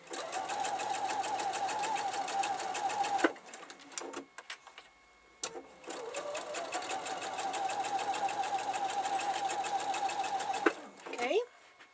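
A sewing machine stitches patchwork blocks in two fast rattling runs of rapid needle strokes, separated by a pause with small clicks, close and clear.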